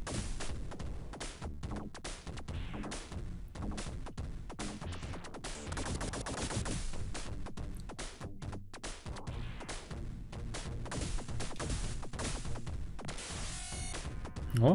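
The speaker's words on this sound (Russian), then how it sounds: "Заряжает пучок, и он взрывается." Magneto's charged beam explodes in the Sega game X-Men 2: Clone Wars, amid dense, continuous retro game blasts and crashing hits with rapid repeated impacts, loud throughout.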